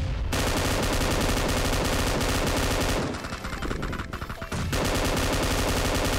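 Rapid automatic gunfire from a PUBG Mobile match, dense sustained bursts filling most of the stretch, with a brief thinner lull in the middle before the loud spraying resumes; no talk.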